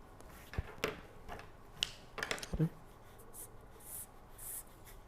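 Marker or pen drawing a motor diagram on a board, a few short scratchy strokes and taps spread across a quiet few seconds, faint and close.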